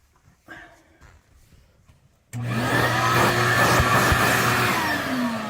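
A household vacuum cleaner switches on abruptly and runs with a loud, steady whine and airflow roar while sucking up live bugs indoors, following a few seconds of quiet handling noises.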